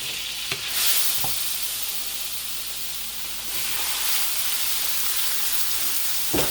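Beef for cheesesteak frying in browning butter in a pan, a continuous loud hiss and sizzle with a couple of sharp utensil taps, heard alone without voices.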